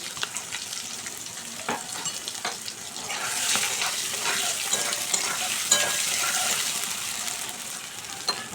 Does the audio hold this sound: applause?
no